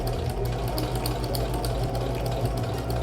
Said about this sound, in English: Do your back stitch and then just keep going all the way around until you make it to the beginning again.